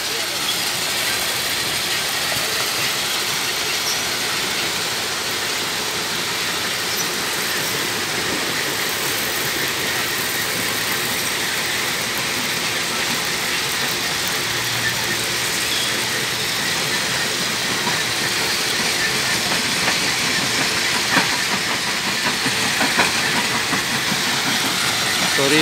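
Several stone crushing mills running together at the Tamabil border area in Sylhet, a loud, dense, unbroken mechanical roar and hiss that fills the whole stretch without pause.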